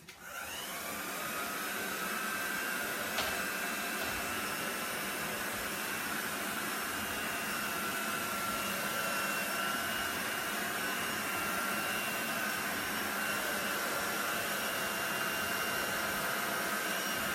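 A handheld dryer blowing air over a Chalk Couture craft project, switching on and then running as a continuous loud, close whoosh with a faint steady whine, unbroken for the full length with no talk.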